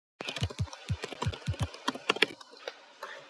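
Fast, irregular key presses on a computer keyboard, a run of sharp close clicks with some heavier thumps, tapping alone with no talk.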